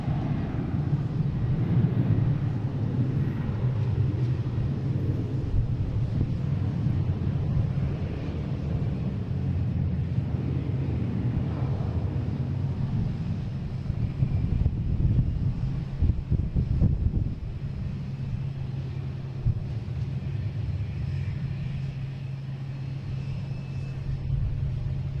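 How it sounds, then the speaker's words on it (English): United Airlines jet taking off at Boston Logan International Airport, a steady distant low rumble and roar with wind noise, fairly faint and continuous, no talking. "We have United Airlines taking off, heading to Newark."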